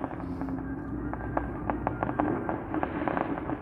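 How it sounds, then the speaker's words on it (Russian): Fireworks bursting over a city square during a festival salute, a steady run of sharp cracks and booms over a dense rumbling crowd background, fairly loud and continuous. "Посмотрите, какой салют."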